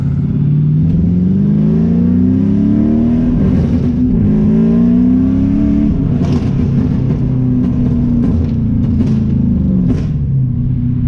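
An LS-swapped BMW E46 with a manual gearbox pulls hard through first and second gear; the loud, close V8 engine rises in pitch, drops at the shift, then climbs again without a break.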